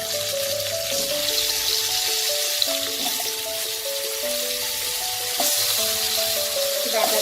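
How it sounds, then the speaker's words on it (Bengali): Potatoes for a Bengali dudh sukto go into hot spiced oil, giving a steady close sizzle of frying beneath soft background music, with a brief clatter midway. "এবার আমি আলুটা দিয়ে দেবো।"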